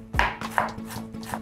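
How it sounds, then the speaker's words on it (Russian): A knife finely chopping cabbage with the core removed on a cutting board, giving sharp, regular strokes roughly every few tenths of a second, close and clear with no talking. "а саму капусту меленько-меленько нарезаем"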